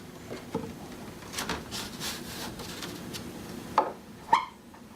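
A blade cuts into a wooden instrument top for an inlay, a few soft scraping strokes followed by two sharp ticks near the end, close and quiet.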